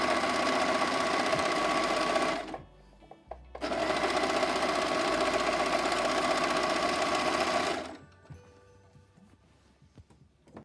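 A serger overlocking the side seams of a checked-fabric 1950s-style skirt runs in two loud, steady whirring bursts, briefly stopping between them, then falls to quiet handling sounds.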